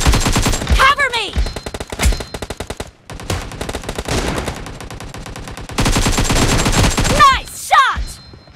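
Rapid, loud automatic gunfire in the mobile shooter PUBG Mobile, with sustained bursts of rattling shots broken by short pauses and brief voice callouts mixed in.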